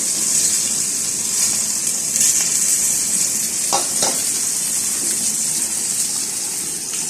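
Potatoes and onions frying in hot oil, a steady loud sizzle that continues throughout with a couple of brief stirring knocks partway through.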